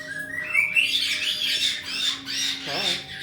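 A pet bird lets out loud, rasping squawks at close range, a steady stream of harsh calls with a sharper cry near the end over a faint background hum.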